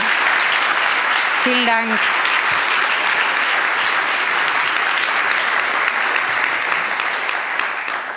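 Steady, loud applause from an audience at the German Non-Fiction Prize 2022 award ceremony, honoring a laureate and filling the whole stretch, with a brief spoken thanks near the start.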